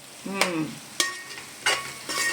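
Chicken fry with turmeric stirred in a hot pan, restaurant style, four distinct scraping strokes of a spoon against the pan over a steady low sizzle, close and moderately loud, with no talking.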